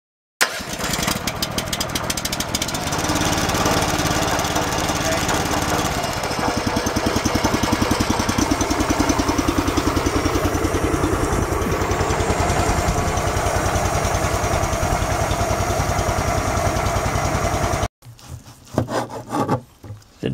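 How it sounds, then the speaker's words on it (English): A loud, steady tractor engine drones continuously with a rough mechanical rumble while backing up and pulling a water tank, then cuts off abruptly near the end, leaving brief faint clatter. "he's got the tractor backing up and pulling the water tank."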